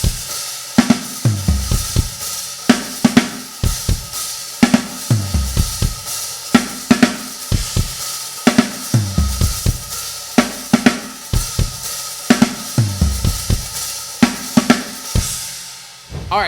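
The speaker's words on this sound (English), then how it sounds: "play a little bit louder and open up that hi-hat" Loud rock drum beat on a kit with an open, washy hi-hat, steady rhythmic kick and snare hits repeating for the whole stretch, close and alone with no talk.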